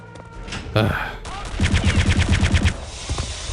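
Rapid bursts of Mauser rifle fire in the World War II shooter Return to Castle Wolfenstein, a quick string of close, loud shots ringing out over game ambience.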